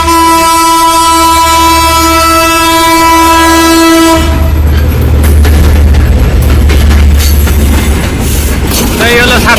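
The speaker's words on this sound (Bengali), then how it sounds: "একটা হর্ন পাওয়া গেল সুন্দর হর্ন লোকোমোটিভ" A locomotive horn sounds loud and sustained at a railway level crossing at Uttar Azampur for about four seconds, then the heavy rumble and clatter of the passing train takes over and continues to the end.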